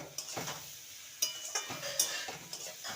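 Chopped gourd tossed with spices in a pan, with soft scraping and light clinks of a utensil against metal over a faint sizzle, close and continuous for a few seconds.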